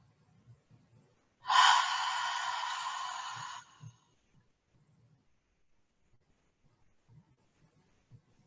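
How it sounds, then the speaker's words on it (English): A single long, deep breath lasting about two seconds during a yoga stretch session, a broad airy rush standing alone in otherwise near-silent surroundings with faint low thumps. "So deep inhale into your belly. Exhale."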